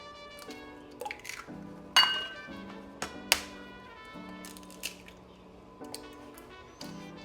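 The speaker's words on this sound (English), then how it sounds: "Let's crack your eggs, break them on a hard surface." Eggs cracked against a hard surface into a bowl, a few sharp taps and clinks spaced apart over a steady background tone, close and fairly quiet.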